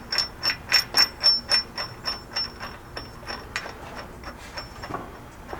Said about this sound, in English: Once you have that started, you'll need an 1 1/8" socket to tighten that up.